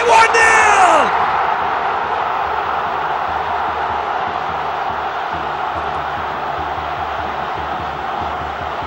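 A stadium crowd at Estadio La Casa Blanca roars after a goal in a Copa Libertadores football match between Liga de Quito and River Plate, a loud, sustained wall of cheering with a whistle at the start.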